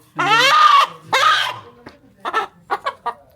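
A chicken squawks loudly twice in long, harsh cries while being caught, then lets out several short, agitated clucks close by.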